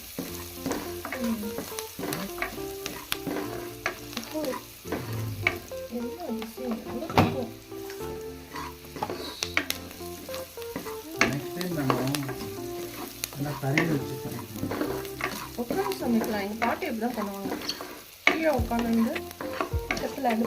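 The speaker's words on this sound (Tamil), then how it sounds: "இதான் தாளிப்பு அவ்வளோதான்" Tempering spices for a Marathi-style spicy pigeon pea pod kuzhambu sizzle steadily in a hot pan while a spoon stirs and scrapes, giving a continuous close fry with irregular metallic clinks and knocks.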